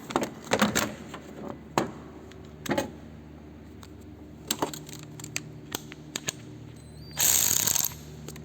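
A ratchet working on a stubborn bolt and bracket on a 2001 Buick LeSabre, with bursts of rapid clicking pawl action and metallic clinks up close, and a louder sustained ratcheting run near the end; no speech.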